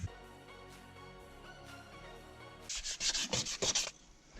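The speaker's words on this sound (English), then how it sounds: "I got this 336 grit, I guess. I'm gonna try it and see if it gets more of this paint off." Sandpaper of 336 grit scrubs paint off a metal ATV exhaust in a quick run of close, rasping strokes near the end, after a quiet stretch.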